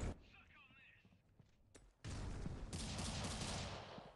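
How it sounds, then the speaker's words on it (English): Gunfire from the video game Polaris during a competitive championship match: a few scattered shots, then a loud, dense burst of rapid firing that fills the second half, with a commentator talking over it. "some shots through the smoke"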